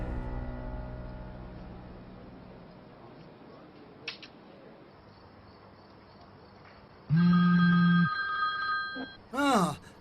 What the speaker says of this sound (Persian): سیلین زنگ میزند.